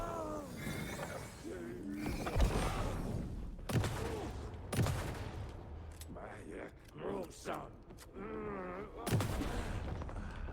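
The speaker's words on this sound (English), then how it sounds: "3 good shots and they're dead" Several sharp gunshots in the video game Alan Wake 2, spaced out among creaks, mechanical clanks and other game effects, with speech-like voices in between.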